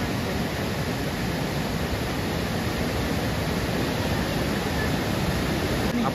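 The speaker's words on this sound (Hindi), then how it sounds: "अब पानी की रफ्तार देखिए गाइस कितनी तेज दौड़ रहा है, क्योंकि दर इन्होंने खोल दिए हैं" Water rushes through the opened gates of Duni dam, a loud, unbroken roar of churning, fast-flowing water that stays constant throughout.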